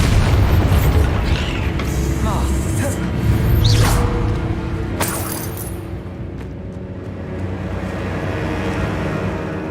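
A Bombarda spell explodes in the Hogwarts Legacy video game with a loud, deep boom that swells and then fades into a rumbling tail, followed by quieter in-game sounds.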